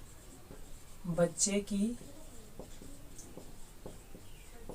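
Marker or chalk strokes scratch across a board while a math problem is worked out, short scraping taps scattered under a teacher's close, steady speech.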